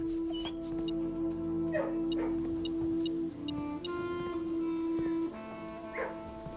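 Dogs in Blue Prince whimper while being petted, giving a sustained, close, high whine that wavers and breaks in steps, with soft yips and small clicks scattered through it.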